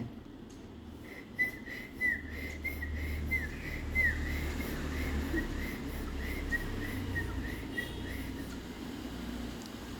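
A person whistles to a one-month-old baby cockatiel, a warbling, wavering whistled tune of repeated short notes held fairly close over a low background rumble, with no talking.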